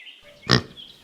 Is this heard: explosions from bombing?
no